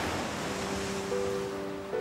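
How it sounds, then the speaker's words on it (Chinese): Ocean surf breaking along a rocky seaside coast at dawn, a steady broad wash of waves with faint wind noise and a thin tonal hum underneath, no voices. "然后听着海浪声，我觉得也是很舒服"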